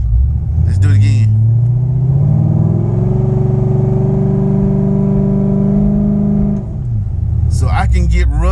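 The engine of a Chevrolet C6 Corvette with a 3600 stall converter rises to a held, loud, droning rev during a stall test and then drops away, with a voice heard briefly before and after.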